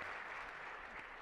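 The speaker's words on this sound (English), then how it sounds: "Those applauding is the Panamanian crowd, right?" Applause from the audience at a Latin America logistics conference session, a brief steady burst of clapping from a crowd heard from some distance.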